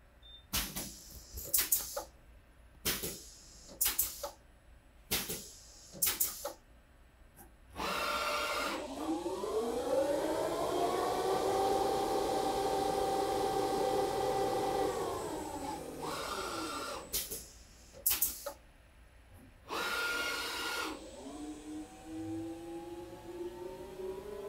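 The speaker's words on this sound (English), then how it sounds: "It's telling me to start the spindle." A TRAK turret lathe spindle spins up and runs steadily with a rising, then falling whir for about eight seconds, bracketed by short bursts of machine noise and clicks.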